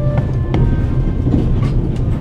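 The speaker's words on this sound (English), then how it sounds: "The noise on this train is driving me crazy." Train rattling along the rails aboard the Orient Express in a video game, a steady loud rumbling roar with faint rhythmic clicks and clanks running continuously throughout.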